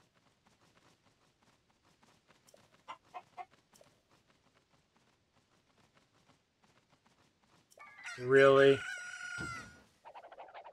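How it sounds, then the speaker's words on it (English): A chicken in The Legend of Zelda: Tears of the Kingdom gives a loud, close burst of clucking and squawking near the end, after a stretch of faint clicks and a few soft taps; a voice speaks briefly. "The chicken is..."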